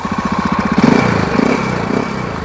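A Yamaha XT 660 Z single-cylinder motorcycle engine runs steadily up close, its loud, lumpy thump pulsing rhythmically through the muffler, with no voices over it.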